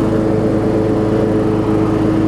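A Toro Wheel Horse lawn tractor fitted with a Murray mower deck cuts grass in reverse, its engine and spinning blades making a loud, steady, close drone with no talk.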